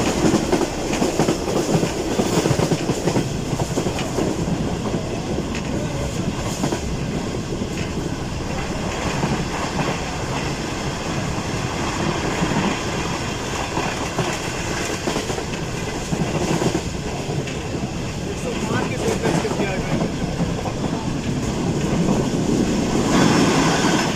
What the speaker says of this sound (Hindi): ट्रेन इस वक्त बहुत अच्छी स्पीड में बिन कासिम रेलवे स्टेशन को स्किप कर रही है।